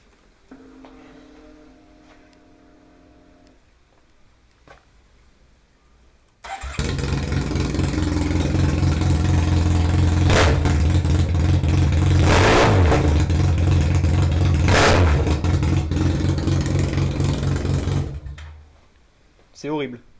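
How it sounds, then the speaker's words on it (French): A Yamaha TMAX scooter fitted with an Akrapovic racing exhaust, baffle removed, starts at close range and revs hard for about ten seconds. The engine drones loudly and steadily with rising pulls, then cuts off, and a brief burst follows. "je vais vous faire un petit démarrage quand même sans cartouche"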